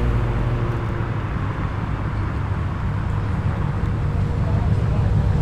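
A Subaru WRX pulls away from a large car meet in Tempe, its engine a loud, continuous low rumble over busy traffic noise, with voices talking throughout.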